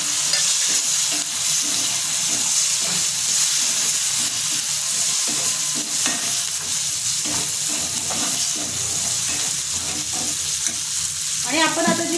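Cooked field beans (val), soaked overnight and pre-boiled, being stirred and sautéed a little at a time in a hot pan for a vegetable dish, giving a steady sizzle with repeated scraping strokes throughout, close and fairly loud with no talk.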